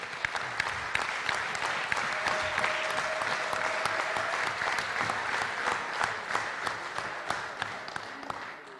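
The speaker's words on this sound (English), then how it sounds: "let's give a round of applause to Chris and the board." Audience applause at a football banquet, a steady round of clapping from a crowd indoors lasting several seconds, with faint voices underneath.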